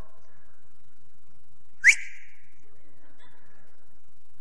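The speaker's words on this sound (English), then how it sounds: "that simple whistle and their heads would poke out" One short, sharp human whistle cuts through an otherwise quiet space, a single piercing rising note followed by faint background sounds.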